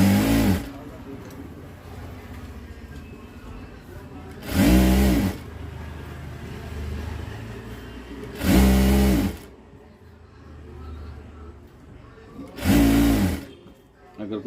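A sewing machine stitching the lining into the back of a blouse, running in three short bursts spaced about four seconds apart, close and loud, with a voice talking between the bursts.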